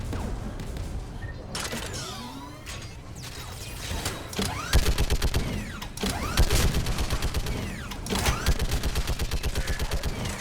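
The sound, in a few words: turret gunfire in the video game Mass Effect 3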